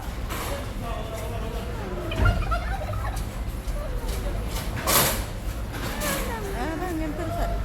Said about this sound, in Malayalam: എന്താ ടർക്കിക്കോഴിയാണെന്ന് തോന്നുന്നു കേട്ടോ.